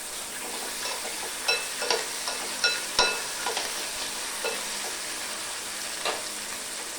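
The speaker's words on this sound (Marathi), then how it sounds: "आता हे सगळं छानपैकी आपल्याला फ्राय करून घ्यायचे आता त्याच्यामध्ये घालते मी थोडीशी अद्रक लसूणची पेस्ट" Vegetables frying with ginger-garlic paste in a pan for a home-cooked Indian meal, a steady sizzle with several sharp stirring clinks and scrapes of a utensil against the pan, close and alone without talk.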